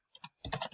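Keys tapped on a computer keyboard while typing a resume: a couple of separate clicks, then a quick close cluster of keystrokes, with no one speaking.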